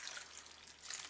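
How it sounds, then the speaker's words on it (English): Hot, steaming water is poured over tomatoes, a soft, faint trickling splash lasting about a second. "We're going to pour the water over the tomatoes."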